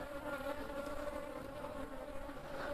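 Honey bees swarming around hives fill the air with a dense, steady buzzing drone that holds close and even throughout, with no voices.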